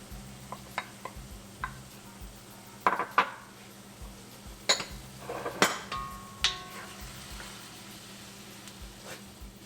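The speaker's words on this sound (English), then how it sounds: "Now we'll add the tomatoes." Tomatoes are stirred into a pan with chopped green chilies for homemade baingan bharta: a spoon clinks and scrapes against the metal in scattered bursts, close and moderately loud, with a faint sizzle underneath.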